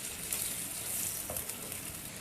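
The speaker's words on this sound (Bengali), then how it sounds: "এবার এটা যতক্ষণ ভাজা হয় ততক্ষণ সময়।" Battered jute leaf fritters frying in hot oil: a steady, dense, close sizzle with small pops, continuous and alone throughout.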